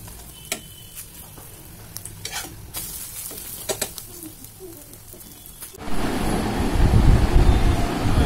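Egg omelette frying in a pan: a few light clinks and quiet kitchen noise, then a loud, dense sizzle bursts in for the final seconds, with no one talking.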